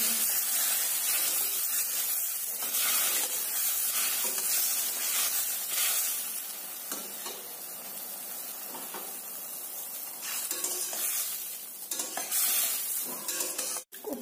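Raw banana koftas stirred in a kadai of hot gravy, with a continuous close sizzling, bubbling hiss and soft spoon scrapes throughout.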